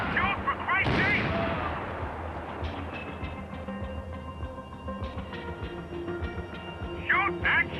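Gunfire in the video game Max Payne 3, a heavy blast followed by scattered shots and rumbling explosions with game voices shouting over the noise.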